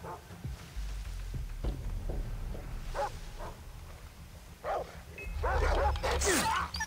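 Dogs bark and yip in the Far Cry 3 video game, a few sharp calls rising over a steady low ambient rumble and game noise, growing louder toward the end.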